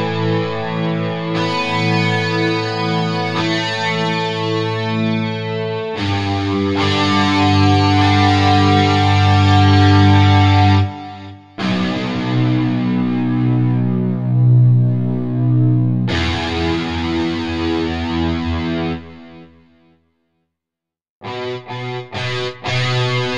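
Dirty, distorted electric guitar plays sustained single notes one after another, each ringing out loud and gritty before cutting off, with a brief silent gap.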